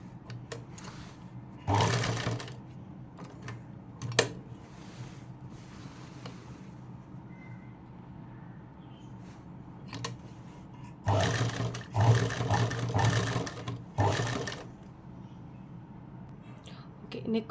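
A sewing machine runs in short bursts while stitching around a dress neckline, its whirring rising loud at intervals over a steady low room hum, with pauses between runs.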